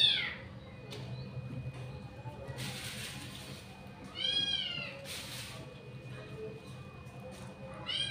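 A cat meows a few times, drawn-out calls rising and falling, fairly close, over a low steady background hum.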